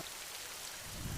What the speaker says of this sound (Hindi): बारिश वैसे ही हो रही है